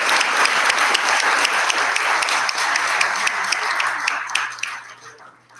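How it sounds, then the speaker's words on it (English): A debate crowd at a university applauds the panelists after the atheist side is introduced, with loud steady clapping that fades out over the last second or so. "If we can give a round of applause to our panelists"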